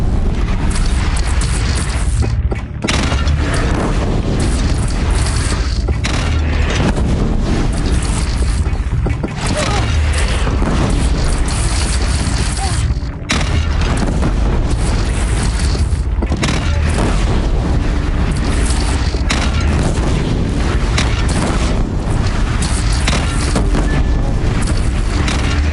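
Cannon fire in a Horizon Zero Dawn battle: loud, dense booming blasts repeat across the scene over a constant roar of combat noise, with voices mixed in.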